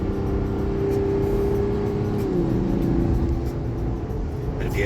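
Cabin drone of a Mazda CX-60 with a 3.3 litre turbo diesel cruising in 8th gear at low revs, a steady low rumble with a faint tonal hum that shifts slightly midway.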